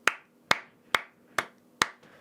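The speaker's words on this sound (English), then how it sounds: "It's just me clapping a whole bunch of times." Five sharp hand claps recorded alone as a music production sample, spaced in a steady, slightly uneven rhythm about half a second apart, each crisp and close with a short decay.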